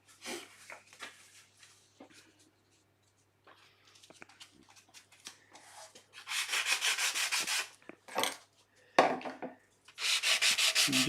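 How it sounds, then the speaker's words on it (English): Repeated rasping strokes of a 180-grit sanding block rubbing with the grain across a small wooden box, in bursts of steady back-and-forth scraping with brief pauses, close and fairly loud. "I'm just going to sand with the grain."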